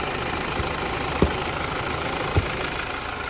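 A 2015 Mazda CX-5 2.2 Skyactiv-D diesel engine idling steadily and fairly quietly, an even low mechanical hum with a couple of faint knocks.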